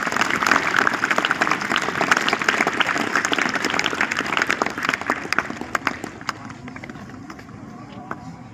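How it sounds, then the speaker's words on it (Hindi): An audience at a Republic Day school event claps loudly for teachers, dense crowd applause that holds for several seconds then thins out and fades. Some voices mix in. "आप जोरदार तालियां बजाएं"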